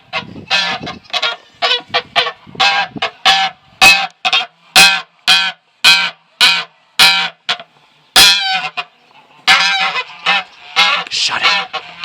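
Broody goose honking repeatedly and loudly up close, a rapid series of harsh, evenly spaced calls with brief pauses between bursts.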